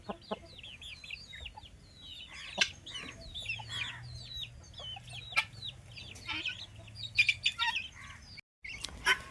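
Country chickens and roosters on a village chicken farm cluck and call almost nonstop, with overlapping sharp chirps and squawks close by, alone without talk.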